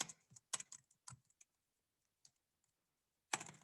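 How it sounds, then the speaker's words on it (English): Fingers type on a computer keyboard in quiet bursts of soft key clicks, pausing for a couple of seconds before a final louder cluster of taps. "I'm really struggling with typing."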